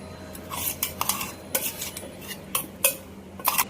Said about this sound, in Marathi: आता आपण हे मिक्स करणार आहोत आप्याच्या पिठामध्ये